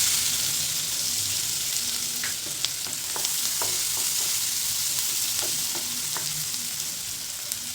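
Chopped onion sizzles steadily in butter and oil with cumin in a kadhai, while a spoon scrapes and stirs in repeated short strokes, close and alone.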